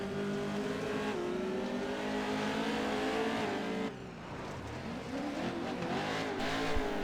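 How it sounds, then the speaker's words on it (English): A race car engine bogs under throttle while climbing a hill, a loud sustained drone that drops and wavers midway before building again, near and with no talk. "Notice how the engine bogs to try to maintain traction and get a good launch up this hill"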